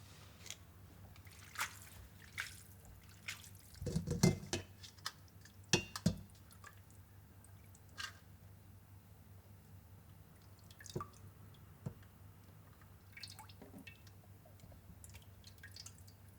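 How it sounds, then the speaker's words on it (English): Yakisoba noodles being rinsed in water in a home kitchen: a quiet run of drips, trickles and small sloshes, with a few sharper splashes near the middle, fairly close and alone. "rinse the yakisoba noodles."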